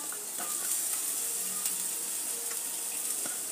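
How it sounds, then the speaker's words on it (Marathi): Sliced onion dropped into hot oil in a pan for restaurant-style paneer, a loud, steady hiss of sizzling frying that holds evenly throughout, close up, with no talking. "यामध्ये कांदा घालत आहोत। एक मोठा कांदा मी स्लाइसने कापलेला आहे तो घालत आहे।"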